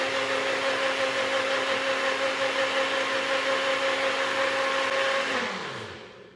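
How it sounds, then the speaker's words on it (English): High-speed blender whirs loudly and steadily for several seconds, mixing powders into milk, then the motor winds down and spins to a stop. "This is a high-speed blender, so it's pretty quick."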